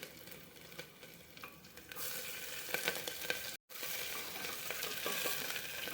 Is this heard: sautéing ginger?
yes